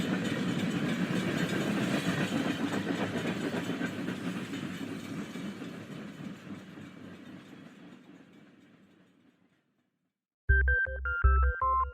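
Train running on rails as a story sound effect: a rumbling clickety-clack that fades gradually to silence, followed by a short burst of bright tonal notes like a musical chime or whistle.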